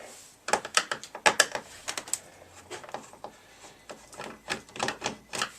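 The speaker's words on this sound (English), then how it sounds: "Let's try taking some more screws out." Hand screwdriver turning screws out of a salvaged trash-picked TV, producing a close, irregular run of small clicks, squeaks and scraping taps with no talking.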